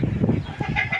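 A short burst of low clucking from a native fighting rooster on a poultry farm, close by, with a brief higher call at the end.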